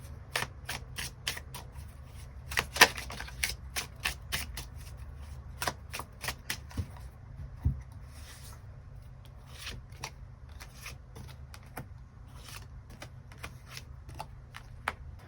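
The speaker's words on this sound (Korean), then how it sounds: "이제 앞으로 나의 연애를 위해서 필요한 조언의 카드 무엇이 있을지 추가 카드 뽑아보도록 하겠습니다" Tarot cards are shuffled and drawn in a long run of crisp, rapid flicks and taps, dense at times and sparser at others, close and clear with no talking.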